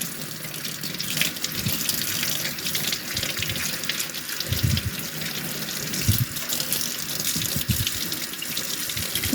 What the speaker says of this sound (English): Okay, I always do it under running water.